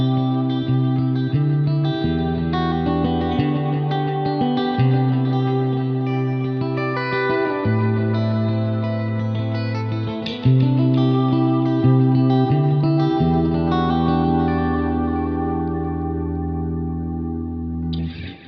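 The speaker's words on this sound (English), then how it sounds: "Very cool sounding delay pedal" Electric guitar played through a rhythmic delay pedal on a pedalboard, a chorded part with repeating echoes and a reverb-washed, slightly distorted tone, steady and loud throughout with no talking.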